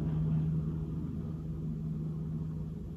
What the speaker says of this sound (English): now the tractor is coming back